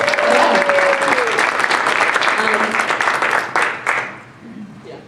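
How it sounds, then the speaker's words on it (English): A conference audience gives a loud round of applause, dense steady clapping from many hands that holds for several seconds and then thins out and fades near the end. "can we give Carlene another round of applause?"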